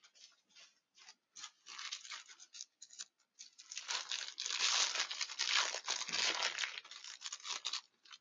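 Paper rustles and crinkles in quick irregular bursts as it is handled and tucked into a journal belly band, close and fairly quiet, with no talking.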